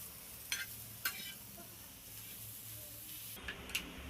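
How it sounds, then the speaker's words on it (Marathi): Coriander leaves roast in a pan with a soft, steady sizzle, punctuated by a few sharp clicks of a spatula stirring against the metal. "भरपूर कोथिंबीर घेतलीये, ती थोडीशी भाजून घेते"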